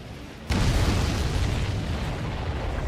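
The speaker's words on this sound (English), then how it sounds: "Did you see that explosion?" An explosion goes off in the combat flight game Ace Combat 7 during an air mission. It starts with a sudden loud boom, then a heavy, steady roar that rumbles on for a couple of seconds.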